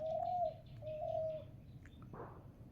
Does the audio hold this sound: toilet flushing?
no